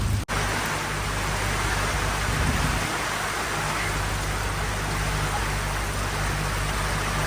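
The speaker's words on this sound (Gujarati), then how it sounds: "આજે જામનગરમાં વરસાદ ચાલુ થઈ ગયો વીજળી સાથે અને પવન પણ સારો છે" Steady, dense rain roaring close by in Jamnagar with wind, a constant wash of noise and low rumble, no distinct thunderclap standing out.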